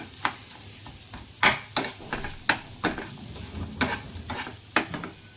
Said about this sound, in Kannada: ಇದಿಷ್ಟು ಚೆನ್ನಾಗಿ ಫ್ರೈ ಮಾಡ್ಕೊಳ್ಳೋಣ